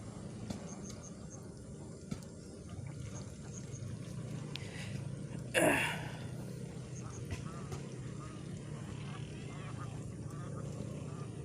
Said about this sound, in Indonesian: Spotnya banyak bebek tuh yang lagi berenang cari makan.